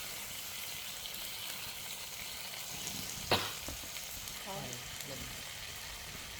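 Pork neck stir-frying in a pan with dried chili, a steady hiss with a sharp scrape of the spatula near the middle and a few faint knocks after, close and moderately loud.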